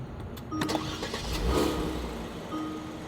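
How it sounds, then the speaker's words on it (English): A Kia Stinger's engine cranks and fires up, rising to a brief rev surge before settling to a steady idle, heard up close with no talking. "So I'm gonna start the car, right?"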